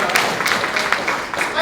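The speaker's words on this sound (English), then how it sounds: "give yourselves a round of applause to start" An audience at a TVDC meeting breaks into brief applause, a dense close patter of clapping with voices mixed in, holding steady for a short stretch.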